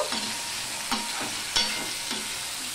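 Turmeric and salt being stirred into a frying pan while cooking drumsticks, a continuous sizzle punctuated by four evenly spaced scraping strokes of a spoon against the pan, with no voices.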